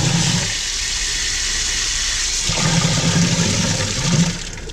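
Toilet being flushed and draining away, a steady loud rush of water filling the whole clip, easing toward the end, with no talk over it.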